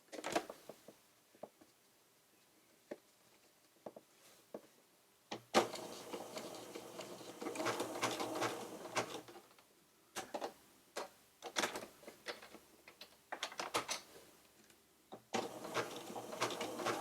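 A sewing machine stitches zigzag through a paper journal, giving loud, close mechanical rattling bursts between quieter stretches of scattered handling clicks and taps.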